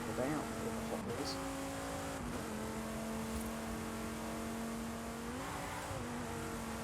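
The Hot Wheels Deora II drives in Forza Horizon 5, its engine droning steadily and shifting pitch with a few gear changes, heard fairly faint under a voice talking.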